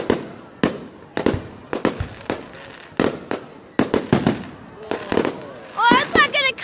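Fireworks let off at seagulls crack in a rapid series of sharp, loud bangs spaced a second or so apart, with gull-like squawks near the end and people talking between the bursts.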